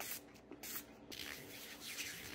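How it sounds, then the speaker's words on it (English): Short bursts of dog medicine sprayed from a pump bottle onto hands, a few hissing spurts in quick succession, close and fairly quiet, with no talk. "This is day 1 of me spraying dog medicine on my hands to make them tougher."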